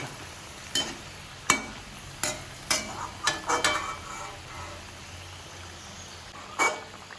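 Kozhikkal, a Thalassery snack, fries in a pan of oil while pieces are turned, giving a steady soft sizzle broken by several distinct clinks and scrapes of the utensil at irregular intervals.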